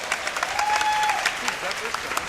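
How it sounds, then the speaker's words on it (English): A small audience at a speedrunning event applauds with scattered, moderately loud claps, while voices and a brief tone sound underneath. "You can clap already."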